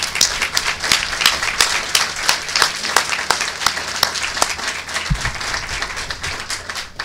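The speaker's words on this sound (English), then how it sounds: "I will ask that you join me in a round of applause for all she has done for each and every one of us." An audience at a U.S. Army garrison change of command ceremony gives Lori a round of applause, a dense, even clatter of many hands clapping continuously and close.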